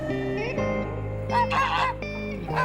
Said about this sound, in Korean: 거위예요, 거위.